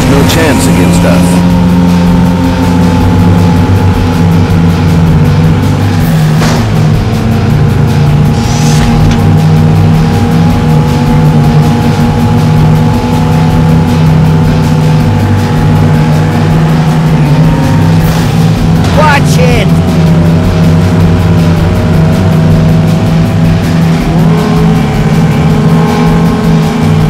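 Race car engines from the Cars High Octane video game hum and rev steadily for a long stretch, with occasional swooping pitch changes, playing loud under intermittent character speech.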